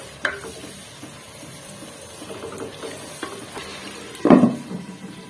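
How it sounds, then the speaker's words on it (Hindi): Tomatoes sautéing in a pan, a quiet sizzle under sporadic stirring scrapes and a louder clatter of the spoon against the pan near the end, with no one speaking. "टमाटर ऐड करने के बाद हम इसको तकरीबन 5 से 10 मिनट इसकी अच्छी सी भुनाई करेंगे"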